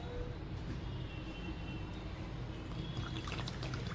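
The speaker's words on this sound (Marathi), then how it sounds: "आणि याच कपाने चार कप पाणी घेणार आहोत" A quiet, steady stream of cold water pours continuously into a cup for several seconds, with no voices.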